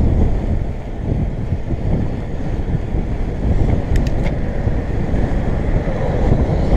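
Strong wind buffeting the microphone on an open bridge to an island, a continuous low roaring rumble with gusty fluctuations, close and loud, with no talking heard.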